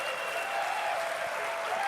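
A large crowd at Nintendo's E3 2004 presentation cheers and applauds for Shigeru Miyamoto, a dense steady roar of clapping heard from a distance, with voices faintly underneath.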